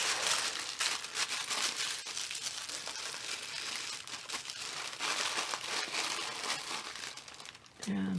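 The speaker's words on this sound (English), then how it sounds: "I have some washi tape that I'm just going to put on there" Washi tape going onto a paper gift tag makes close, steady crinkling and soft tearing rustles that continue almost without a break before a short thud at the end.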